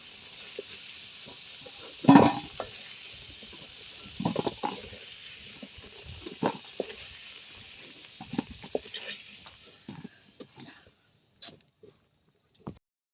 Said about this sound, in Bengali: শুকনো লঙ্কা, তেজপাতা, গোটা গরম মশলা, একটু জিরে ফোড়নে দিয়ে দিলাম।